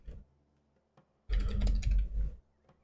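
Close, quiet computer keyboard typing: a couple of isolated key taps, then a dense burst of rapid keystrokes lasting about a second.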